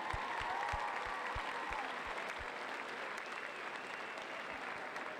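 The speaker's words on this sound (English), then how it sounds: "Give them a round of applause" Crowd applause at a Pittsburg State University Yell Like Hell pep rally, a broad continuous wash of clapping and cheering with low thumps early on, steady throughout.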